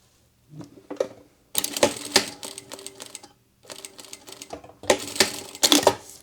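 A sewing machine stitches a handle onto a fabric packing cube in three quick bursts of rapid mechanical clatter, separated by short pauses, close and fairly loud.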